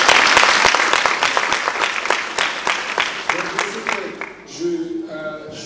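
Audience at the inaugural Universal Forum of Women's Leadership at the European Parliament in Strasbourg applauds loudly and steadily, the clapping fading after about four seconds as voices and other room sounds take over.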